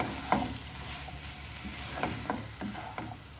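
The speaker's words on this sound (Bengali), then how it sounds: "ভালো করে মিক্স করছি।" Watermelon rind curry with chili powder being stirred in a pan over low flame, a spoon scraping in several soft strokes over a faint steady sizzle.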